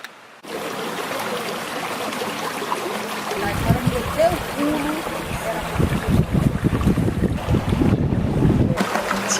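Waterfall at Chapada Diamantina, Brazil, a steady roaring rush of falling water heard close up, with wind buffeting the microphone and growing louder midway.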